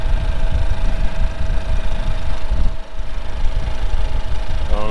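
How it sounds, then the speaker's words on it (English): A 2021 Ford Bronco Sport Badlands engine idles steadily nearby, a loud, even mid-pitched hum with a slight rattly, noisy edge and one brief dip partway through, with no talking. "Guessing smaller engine, it's a little more noisy."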